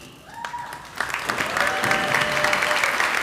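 A college commencement audience breaks into applause that swells after a brief spoken moment and then holds as a full, steady wash of clapping.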